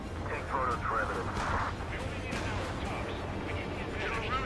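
Gunfire and distant artillery-like blasts in the Ace Combat 7 combat-flight video game, dense and continuous across the mix, with faint talk underneath.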